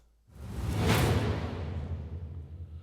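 A swelling whoosh from a Native Instruments Rise and Hit plugin rises quickly from silence, peaks about a second in, then slowly tapers off under a low rumbling tail.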